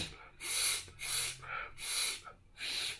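Several sharp, close nasal sniffs in a steady rhythm, about four or five strong inhalations drawing oil up the nose as a cold remedy, each a loud breathy rush separated by brief pauses, with no talking.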